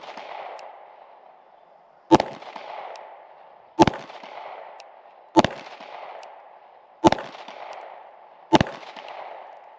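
Five sharp rifle shots fired at steady intervals of about a second and a half, each a loud close crack with a brief ringing tail, on a rifle fitted with a Poor Boy Optics OSight K sight.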